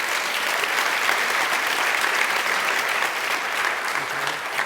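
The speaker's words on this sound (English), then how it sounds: "a big round of applause" An audience at a university lecture on gelation applauds with steady, sustained clapping that fills the room evenly, with only a faint murmur underneath.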